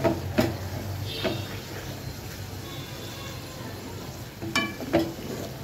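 Catla fish belly fat frying in a pan with a low, steady sizzle, punctuated by a few brief clanks and knocks of a utensil near the start and end.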